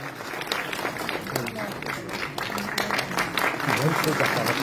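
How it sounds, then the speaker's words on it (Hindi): Audience applause at a school award ceremony in a large hall, sustained clapping from a crowd that builds slightly louder toward the end, with a voice talking over it. "जोरदार तालियों से इनको प्रोत्साहित किया जाए"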